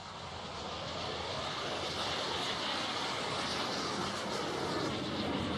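A Lockheed T-33 two-seat jet trainer, a stretched P-80, flies past low at an airshow with a broad, steady roar that swells slightly and holds loud from start to finish.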